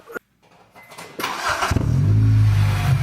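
An Acura RSX race car engine cranks with a short starter whir, catches and bursts into a loud, close rumbling idle that holds steady to the end.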